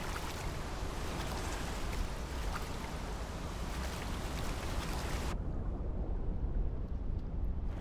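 A waterfall in the survival game The Isle gives a constant, loud broadband rush of falling water that continues steadily throughout, with the upper hiss thinning toward the end.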